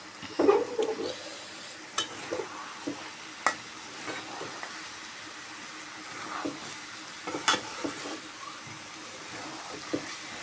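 Food fries with ground coriander and cumin under a soft, faint sizzle, with scattered clicks and scrapes from stirring in the pan.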